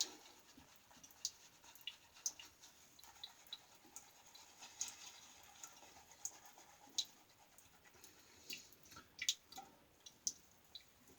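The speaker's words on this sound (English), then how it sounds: "just try to work up the soap we did get on the brush" Shave soap is worked into a lather on a shaving brush, giving faint wet squelches and crisp little ticks scattered irregularly across a quiet background.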